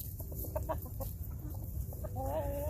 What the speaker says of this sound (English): I've got 1, 2, 3, 4 roosters just right there.